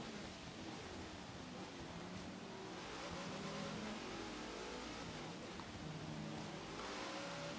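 A car in the racing game Forza Horizon 3, from the Hoonigan Car Pack, launches off the start line, its engine a steady loud roar mixed with broadband noise throughout, no voices.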